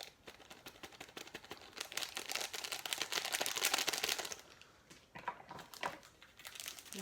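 A plastic packet of Persian seasoning is snipped open at the corner and handled in a pantry: close, crinkly plastic rustling with sharp clicks, building to a dense crackle before easing into scattered crinkles, with no talk.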